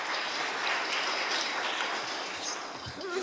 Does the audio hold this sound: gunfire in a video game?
no